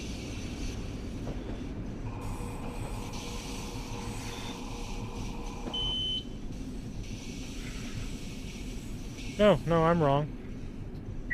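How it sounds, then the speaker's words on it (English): A Long Island Rail Road train in the Train Sim World 4 game passes with a low steady rumble and rolling hum, a short warbling warning tone sounding near the end, while someone briefly talks. "Looks like we have a eastbound train."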